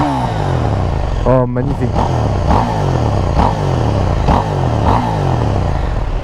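A 2021 KTM 890 Duke R engine revving up close in repeated throttle blips, each rising sweep falling back to a loud rumbling idle, with a brief spoken exclamation over it.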